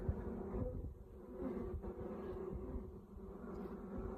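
Honey bees buzzing steadily around an open hive during an inspection, a continuous low drone filling the background, close and unbroken, with no talk.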